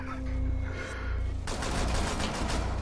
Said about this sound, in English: Watch me shoot through you.